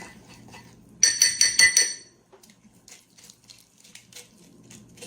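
A spoon stirs orange drink in a glass container, striking the sides in a quick run of about five bright clinks, then softer scraping and light taps in a quiet room.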